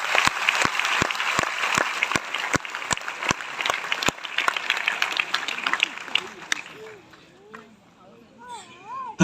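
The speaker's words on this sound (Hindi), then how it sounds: "तो एक जोरदार तालियां इन सभी लोगों के लिए।" Audience applause for mentors and top leaders at a business event, quickly turning into a fast, rhythmic unison clap close by, then fading as a voice begins speaking over the tail.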